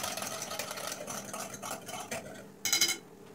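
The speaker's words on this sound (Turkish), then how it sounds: "Hafifçe karıştıralım böyle" A spoon or whisk gently stirs a sauce with plain soda water in a bowl, giving soft scraping and clinking that ends in a brighter burst of metallic clinks, close and alone.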